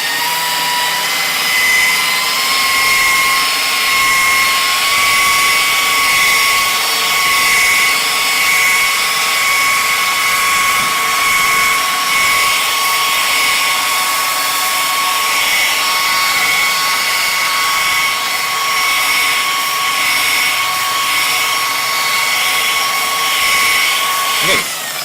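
A machine polisher spreads polish over car paint at low speed, a loud, steady high-pitched motor whine with a constant pitch that holds up close for the whole stretch.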